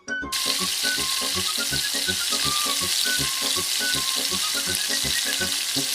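Five hotdogs fry in a pan, a loud continuous close-up sizzle and crackle with steady bubbling spatter and faint clatter, no voices.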